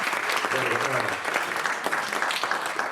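Audience applause for the band at an evening concert, a steady, dense wash of clapping lasting about three seconds, with a voice speaking faintly over it early on.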